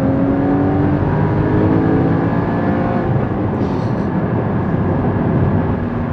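A Porsche Cayman GT4 (981) engine revs loud and close, a dense, continuous howl with climbing harmonics that holds strong from start to finish without speech.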